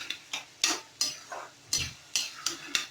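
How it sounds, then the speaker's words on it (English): Green peas and tomato stirred in a pan, a series of rhythmic scraping stirs with light sizzling between strokes, about eight close strokes in quick succession. "After that tomato and now green peas mixing."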